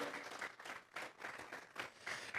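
A church congregation claps as an offering of applause, a faint patter of many hands in uneven bursts over a couple of seconds.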